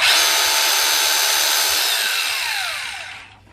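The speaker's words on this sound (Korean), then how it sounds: "그리고 이제 드릴링 모드 이것도 부드럽죠" Running in pure drilling mode, a Makita HR3011 rotary hammer drill gives a loud, smooth, high motor whine that holds steady, then winds down with falling pitch as it stops.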